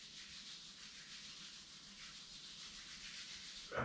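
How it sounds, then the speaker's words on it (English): Palms rubbed briskly together during a yoga session, a soft continuous hissing friction held steadily for a few seconds, quiet and close. "Rub your palms."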